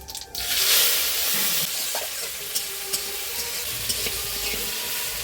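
Chopped onion and tomato hitting hot oil in a wok tempered with whole cumin and nigella seeds, starting with a sharp burst of sizzling that settles into a continuous frying hiss, with a few clinks of stirring close by.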